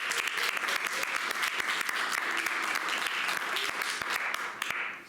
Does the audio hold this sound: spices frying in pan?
no